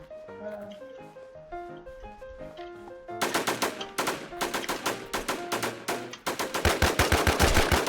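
Rapid gunfire bursts in the online survival shooter Infestation: The NewZ, sharp repeated shots growing louder and denser in the second half, with a musical-sounding tonal layer underneath.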